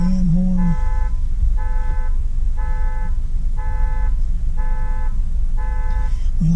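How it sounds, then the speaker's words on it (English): A car alarm or horn honking in repeated short electronic toots, six evenly spaced bursts, loud and close, over steady background noise with a person's voice briefly at the start and end. "Fix your damn horn."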